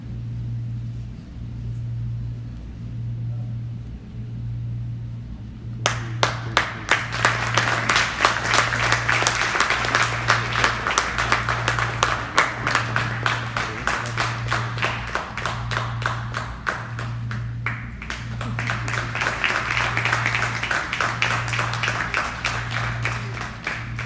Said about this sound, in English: Let's also welcome the accompanying artists with a big round of applause as they take their places